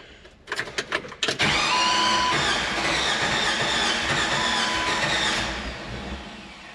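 A Jeep 4.0L engine is cranked after a head gasket repair: rapid starter whirring for about a second, then it catches and runs loud and steady close by before easing down slightly, with no talking.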